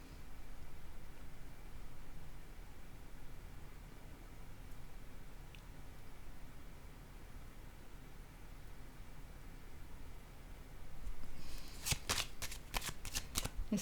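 Deck of cards being shuffled near the end, a quick close burst of riffling flutters after a long stretch of faint room hiss, with no talk.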